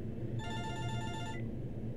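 Old telephone ringing in the winter video game Winter Survival, a steady electronic bell trill lasting about a second over a low background rumble, then stopping.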